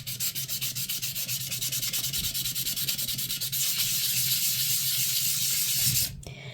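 A wet forged carbon fiber potato head is sanded by hand, the sandpaper rubbing in quick, steady back-and-forth strokes, close and continuous for several seconds, stopping abruptly near the end.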